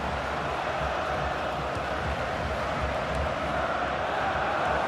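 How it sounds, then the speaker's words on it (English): Dense, steady roar of a football stadium crowd cheering in the video game FIFA 16, during a Premier League match between Leicester and Newcastle, a continuous wash of noise with no clear breaks. "Crowd really enjoying it."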